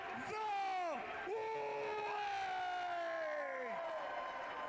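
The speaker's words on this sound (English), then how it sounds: "you would hear this crowd unanimously" Crowd at a live wrestling show whooping and cheering together, sustained loud chant-like vocal swells rising and falling over nearly five seconds, with no separate talk.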